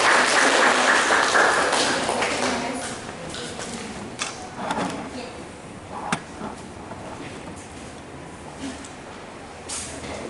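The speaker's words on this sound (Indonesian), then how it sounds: "Kita berikan aplaus dulu kepada Ibu." Applause from an audience at a legal outreach session, a broad crackling patter of clapping that starts full and fades to scattered claps over about ten seconds.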